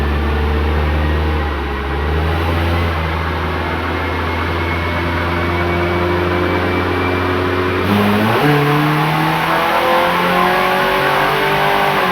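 A Honda Accord DX engine roars loudly with the muffler removed and an open, unmuffled exhaust, holding a steady drone and then revving up sharply partway through.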